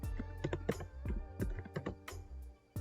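Steady, moderately paced keystrokes on a computer keyboard typing a search term, close and fairly soft over a low background hum.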